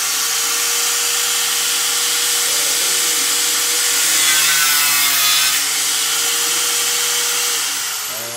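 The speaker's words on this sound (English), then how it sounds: "Turn the grinder on." A grinder runs steadily and loudly throughout in a shop setting, a continuous whining drone that swells slightly in the middle as it bites into work, then eases toward the end.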